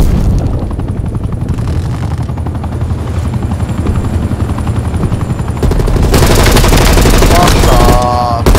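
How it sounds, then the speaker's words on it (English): In the video game Black Ops Cold War, a helicopter's loud, steady rotor thump drones throughout, swelling as it approaches, with bursts of gunfire and in-game sounds growing denser toward the end. "Helicopter inbound."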